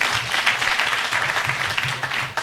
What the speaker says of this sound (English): A very big round of applause once again.